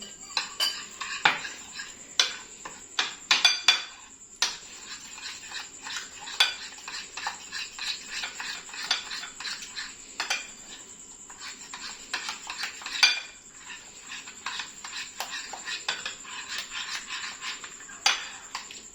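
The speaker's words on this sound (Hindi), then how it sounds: "इन सारों को मैं मिक्स कर लूंगी अच्छे से।" A spoon mixing Russian salad of boiled potatoes, carrots and tomatoes with mayonnaise in a bowl, making steady soft scraping and clinking strokes that continue close by with no break.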